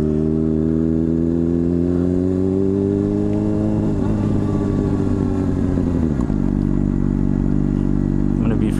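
Motorcycle cruising the Las Vegas Strip on a Friday night, a loud steady engine drone that drops in pitch as it slows, close and continuous with traffic around.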